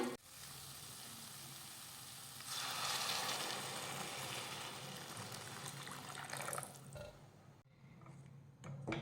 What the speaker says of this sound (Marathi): आता यामध्ये घालूयात गरम पाणी